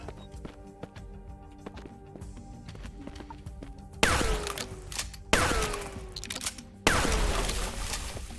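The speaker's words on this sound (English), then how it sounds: "Oh, it's a freaking shotgun." In the Dust & Neon video game, a shotgun fires at barrels. Three loud, booming blasts come a second or so apart and ring out briefly, after lighter clicks and thuds.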